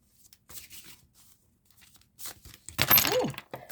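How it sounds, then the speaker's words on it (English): A large tarot deck being shuffled: scattered soft riffles and card flicks, quiet at first, then a louder, denser burst of cards slapping and rustling near the end, with faint voice traces in between. "Please be patient with my shuffling."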